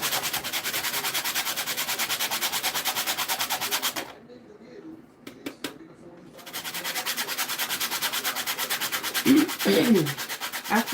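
Spice is grated by hand into a bowl while baking an Easter bun, making a close, rhythmic rasping scrape that runs steadily, stops for a couple of seconds, then resumes, with a voice briefly heard near the end.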